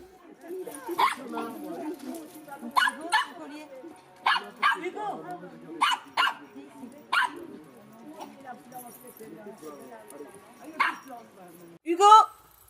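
A small dog adopted from a Rennes animal shelter barks in sharp, repeated bursts with a few yips and whimpers, fairly close, while people talk throughout.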